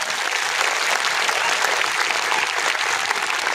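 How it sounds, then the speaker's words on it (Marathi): A large audience at a gathering in honour of Babasaheb Ambedkar breaks into loud, sustained applause, a dense continuous wash of clapping with no break throughout. "बाबासाहेब आंबेडकरांसाठी इथं जोरदार टाळ्या वाजा."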